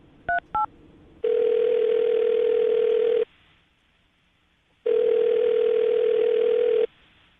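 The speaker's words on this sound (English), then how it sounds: "I'm gonna call her right now, see if we can get her on the phone" A telephone dial tone sounds in two long steady stretches with a short quiet gap between them, preceded by a couple of quick keypad beeps as a call is placed, with no talking.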